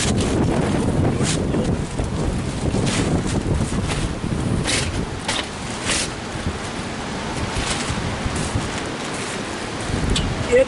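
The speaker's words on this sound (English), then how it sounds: "It is windy today." Strong wind buffets the microphone in heavy, uneven gusts, a loud roaring rush that swells and dips without pause.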